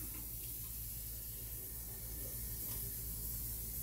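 Water runs from a kitchen tap into a sink in a steady, faint hiss that continues unbroken and without talk.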